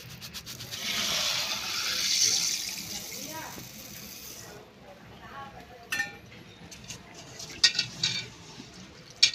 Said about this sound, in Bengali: মুসুর ডালটাকে আমি প্রথমে ধুয়ে নেব